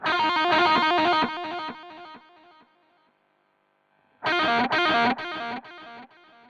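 A distorted electric guitar through a Zoom G5n rings out with delay echoes that keep fading after the delay is switched off, then another loud burst of strummed chords follows.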